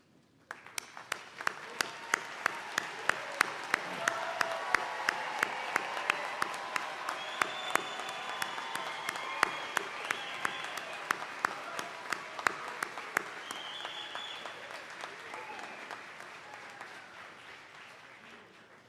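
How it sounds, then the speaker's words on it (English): A commencement audience applauds graduates at a Piedmont University ceremony, with sustained clapping from a large crowd in a hall, swelling early and gradually tapering over nearly twenty seconds. "We'll offer applause"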